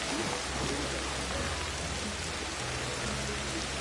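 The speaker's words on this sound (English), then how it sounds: "When it's raining like this, I find it best just to take shelter." Rain pours steadily in the prehistoric survival game Ancestors: The Humankind Odyssey, a dense even hiss of drops on surfaces with faint low rumbles beneath, no talking.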